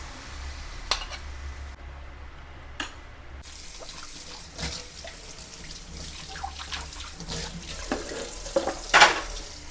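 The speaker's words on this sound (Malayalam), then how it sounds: "പാത്രങ്ങളൊക്കെ അപ്പപ്പോൾ തന്നെ കഴുകി വെക്കാം" Dishes being washed under a running kitchen tap while a fish biryani is cooked, with steady water flow, scattered clinks of utensils and a louder splashing burst near the end; no talking.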